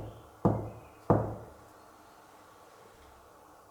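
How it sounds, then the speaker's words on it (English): Two firm knocks on a locked staff-only door in a reputedly haunted UK school at night, spaced about half a second apart and loud and close, each ringing out into a quiet room, with no talking. "Knock on that one and see."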